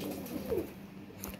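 A faint pigeon coo, short and low, with a soft rising-falling tone, heard at a distance among other kept pigeons in a quiet setting.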